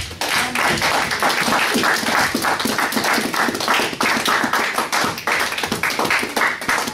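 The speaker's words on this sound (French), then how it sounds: "Applaudissez pour la gloire de Dieu." A church congregation at a Sunday service claps hands in praise, a loud, fairly rhythmic patter of many close claps and taps continuing steadily throughout with no speech.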